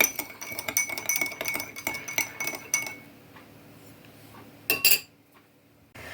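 Metal spoon scrapes and clinks against a bowl while mixing a sauce with salt and sugar in quick repeated strokes, then pauses, followed by a couple of final sharp taps.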